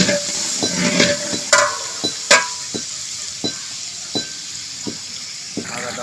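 Garlic frying in a pan for a bhuna khichuri: a steady close sizzle with sharp scraping stirs of a spoon or spatula at irregular intervals, no voices.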